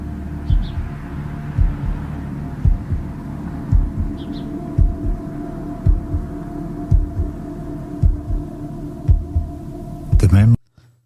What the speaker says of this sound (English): you've got the heartbeats there